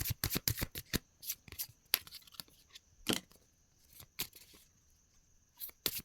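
Tarot cards are shuffled by hand in a quiet room during a tarot reading, giving a series of sharp riffling bursts and flicks, denser at the start, then scattered and pausing before a final few snaps.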